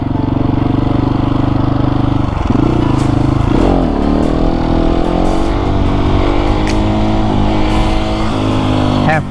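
A 701 motorcycle engine roaring loud and close during a wheelie attempt, holding a steady drone, then revving up with rising and falling pitch as throttle changes.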